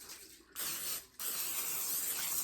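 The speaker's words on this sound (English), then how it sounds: "And I'm going to spray it with olive oil." Olive oil sprayed from a can onto a baking pan for homemade biscuits: two short hissing bursts followed by a longer steady spray, close and fairly quiet.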